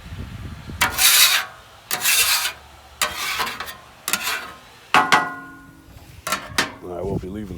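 A metal scraper pushes excess bacon grease across a Blackstone 28-inch griddle in a series of about seven rasping strokes, each a short loud scrape with pauses between, close up.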